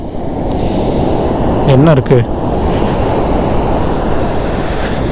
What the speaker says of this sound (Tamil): தண்ணி வரும் வரும் வரும் வா பெரிய அலையாக வருதுங்க